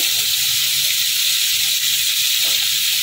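Chopped bottle gourd sizzling in a hot pan of fried vegetables, a loud, steady hiss of frying that stays even throughout without voices.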